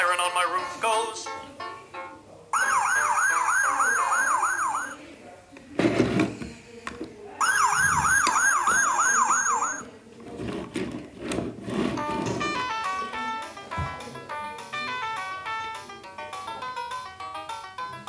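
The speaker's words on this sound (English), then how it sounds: "The siren on my roof goes." A VTech Toot-Toot Drivers toy fire engine sounds its electronic siren, a loud rising-and-falling wail in two bursts, alternating with jingly electronic melody.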